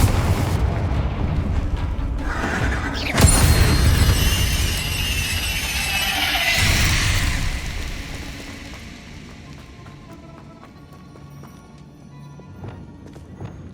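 Confringo spell blasts go off in the Hogwarts Legacy video game: a sharp, loud burst followed by a roaring, crackling swell that fades into a low rumble, with faint clattering debris afterward.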